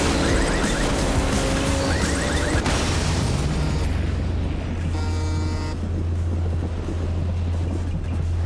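A car blowing up in the off-road racing game MotorStorm on PS3, a loud broadband blast over constant engine drone and race noise, with a steady low hum continuing after the burst.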